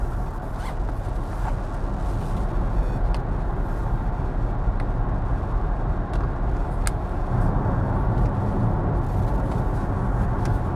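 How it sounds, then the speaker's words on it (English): Kia EV6 GT cruising on rough asphalt, a continuous loud tyre and road roar inside the cabin with occasional sharp ticks and rattles over about eleven seconds. "Damn, this thing is noisy in the rough asphalt."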